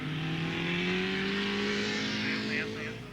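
Vintage racing car on skinny tires driving fast around a wet, slippery circuit, its engine a steady loud drone with a slowly rising pitch, close and continuous with no talking.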